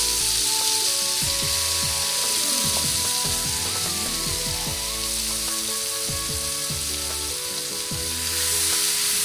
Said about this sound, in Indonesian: Panaskan minyak, tumis bumbu yang telah dihaluskan tadi ya.